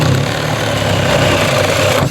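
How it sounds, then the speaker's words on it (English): A power drill bores through two stacked pieces of 1x wood, a loud, steady, close grinding whir that runs without a break for about two seconds. "let me drill a hole for my power."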